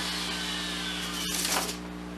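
A Harbor Freight grinder shapes a wooden bar stool with a steady, continuous whir and a brief louder grinding burst near the end. There is no talking.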